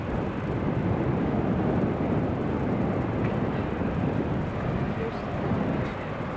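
A TUI airliner on short final approach to Newcastle Airport gives a steady, broad engine roar, fairly loud and unbroken, with wind buffeting the microphone.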